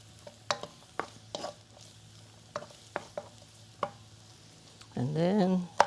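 A spatula clacks and scrapes against a pan of stir-frying vegetables in irregular strokes over a faint sizzle, and a voice briefly speaks at the end.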